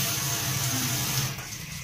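Hot water flows steadily from a newly installed kitchen mixer tap into a sink, a continuous close hiss and splash that eases slightly near the end.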